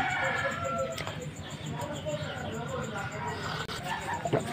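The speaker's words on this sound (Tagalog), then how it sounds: "Masulog nga mga manok." Roosters and chickens crowing and clucking nearby on a farm, several calls rising over a busy background while a person talks.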